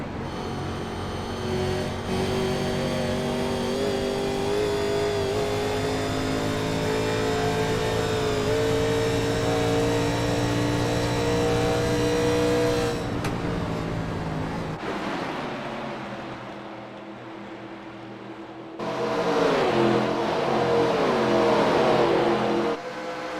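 Stock race cars roar around the track during an All-Star Open qualifying race, engines droning loud and steady with pitch rising and falling, a brief quieter dip before the pack surges back near.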